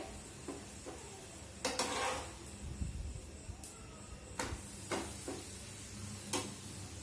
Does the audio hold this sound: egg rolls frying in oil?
yes